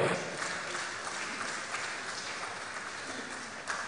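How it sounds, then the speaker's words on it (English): An audience applauds a guest speaker at a formal event, steady sustained clapping from a crowd that holds evenly for several seconds, with no voices over it. "A round of applause, please, as he comes forward"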